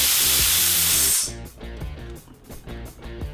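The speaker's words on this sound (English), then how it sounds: "I'm going to be using this DeWalt 225 PSI compressor and this hopper gun" A loud burst of compressed air hisses from a hopper gun on a DeWalt 225 PSI compressor while texturing walls, then cuts off after about a second, leaving a lower rhythmic mechanical hum.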